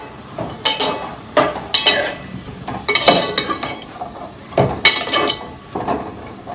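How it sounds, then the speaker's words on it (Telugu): Amaranth stem and chana dal curry stirred in a pan: a spoon scrapes and clinks against the metal in repeated close, fairly loud strokes, no talking. "వేసిన తర్వాత ఇలా కలుపుకోవాలి"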